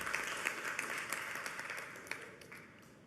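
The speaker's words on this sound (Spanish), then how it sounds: "yo pido también un aplauso para los trabajadores y trabajadoras de PDVSA" Faint applause from a seminar audience for PDVSA oil workers in Venezuela, a soft, distant wash of many hands clapping that gradually fades away with no voices.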